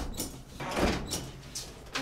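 A door is pushed open in a home, giving a couple of short knocking and sliding bursts with brief scrapes, heard close and moderately loud with no talk over it.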